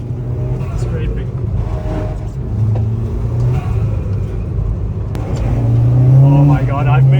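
A Mitsubishi Evo fitted with Christmas lights drives through snow, its engine droning loud and close and rising in revs toward the end, while people talk excitedly over it.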